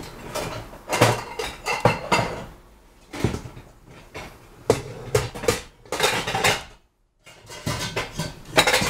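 Metal colander and kitchen dishes clatter and knock in a series of sharp, close bursts with short pauses, handled while rinsing lentils.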